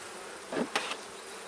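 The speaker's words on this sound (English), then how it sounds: "That's a lot of bees in the upper brood box" Honey bees in an open hive's upper brood box give a couple of brief, faint buzzing bursts against a quiet background.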